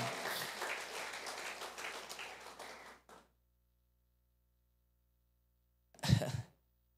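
A burst of church congregation applause during an Easter Sunday service that fades out, followed after a silence by a short cough or throat clear.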